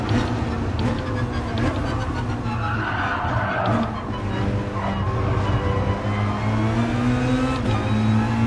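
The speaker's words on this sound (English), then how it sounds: "Look at the GTR just haul ass." Race cars roar steadily in Gran Turismo Sport, a Nissan GT-R among them accelerating hard through an online Nations Cup race, the engine drone loud and continuous with rising whines throughout.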